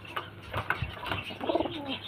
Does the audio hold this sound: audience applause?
no